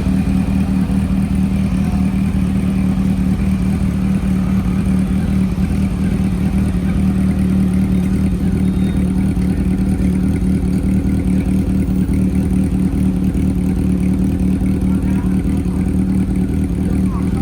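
A modified Honda CB400 with a four-cylinder 400cc engine runs steadily and loudly up close, giving a constant smooth hum with a low, even drone and no clear rev swings.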